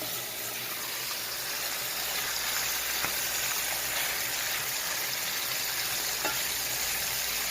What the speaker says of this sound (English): Get this all good and fried up for the greens.